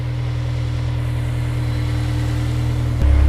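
A Honda S2000 engine idles steadily nearby with a low, even hum and no rattles or ticking, then a brief shift to a deeper, louder drone near the end.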